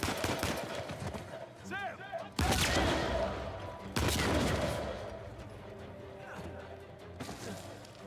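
Gunfire in Uncharted 4 cracks out in several loud, sharp shots with crashing impacts between them, under a busy game soundscape and a voice talking over it.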